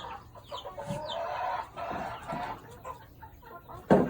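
Chickens cluck and murmur in short, scattered calls, fairly close, with a sharp louder squawk near the end.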